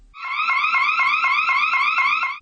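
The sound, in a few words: scream-activated alarm siren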